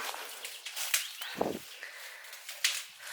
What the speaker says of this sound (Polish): po prostu słuchaj to strzelanie